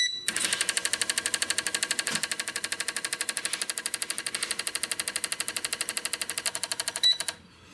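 A CT150 fuel injector flow tester pulsing LS truck injectors through an idle test, producing a fast, even mechanical clicking that runs steadily for about seven seconds and then stops.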